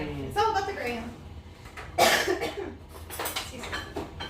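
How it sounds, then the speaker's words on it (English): A person with a lingering cough lets out a few rough coughs and throat-clearing bursts, loud and close, between moments of talk in a home kitchen. "This like a lingering cough that doesn't want to go away yet"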